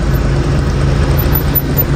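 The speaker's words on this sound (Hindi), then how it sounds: "गाड़ी वाला सामने आ गया" A car engine runs close by with a steady low rumble at a residential home in the evening, loud and unbroken, with no talking.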